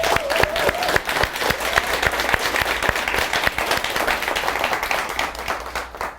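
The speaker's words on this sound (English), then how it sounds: "We can clap for that." An audience at a Navy tribute to a retiring military reporter breaks into sustained applause, dense clapping with sharp individual claps standing out, steady for several seconds before thinning slightly at the end.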